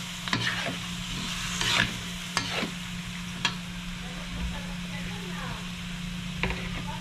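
A spoon stirs rice seasoned with black pepper, rock salt and a chicken cube in a pan for a Kapampangan bringhe, with a soft continuous sizzle, scraping strokes and a few sharp clinks against the pan.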